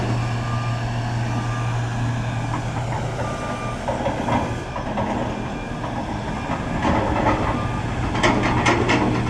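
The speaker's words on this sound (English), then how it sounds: "it's a Volvo 350 size excavator with a thumb and a bucket" Volvo 350-size excavator fitted with a thumb and bucket working at a distant site near a silt fence, a steady low engine drone with intermittent clanks and scraping clatter, no talk.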